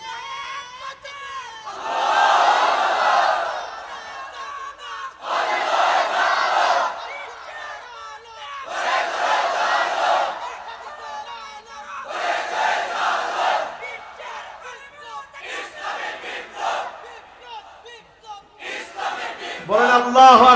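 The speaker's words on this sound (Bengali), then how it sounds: "এটা নন স্টপ তাকবীর হয়েছে" A large crowd at an Islamic religious gathering chants the takbir in repeated loud rhythmic bursts, each swell of massed voices breaking off briefly before the next, continuing nonstop.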